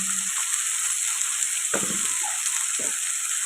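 Yardlong beans fry in a pan with turmeric and salt, giving a steady, close, loud sizzle that runs throughout, with a few brief stirring scrapes partway through.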